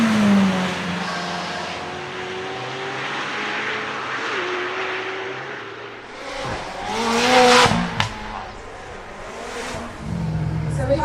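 A McLaren Senna hypercar with a large rear wing roars loudly nearby, its engine note rising and falling through strong acceleration and revs, ending in a sharp crackle before the drone resumes.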